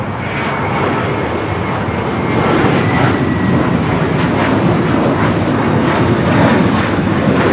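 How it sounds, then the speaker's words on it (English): JetBlue Airbus A321 jet taking off at Los Angeles International Airport, a loud, steady engine roar that swells after a couple of seconds and holds strong throughout, with broadband rumble and some wind buffeting. "This is JetBlue 388 taking taking off to Boston on the A321"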